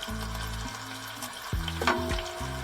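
Catfish and shrimp sizzle on a grill aboard a sailboat: a steady, close frying hiss runs throughout, over low, droning tonal hum.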